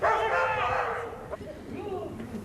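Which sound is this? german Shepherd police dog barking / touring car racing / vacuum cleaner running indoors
german Shepherd police dog barking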